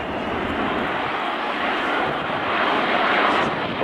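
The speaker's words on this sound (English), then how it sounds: "Now how about that for a slow flyby? It is an extraordinary sight." An airliner makes a slow, low flyby at the 2010 Farnborough airshow, giving a steady, broad jet roar that holds loud and even throughout, with no voices.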